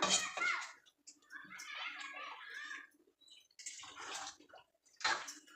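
Water is poured into a pressure cooker of coconut-ground mutton curry in a home kitchen, coming as quiet intermittent splashing bursts, with a voice briefly heard between them.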